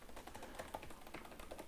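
Keys on a Lenovo ThinkPad E14 laptop keyboard are pressed in a steady run of soft, quick clicks, close up over a faint background hiss.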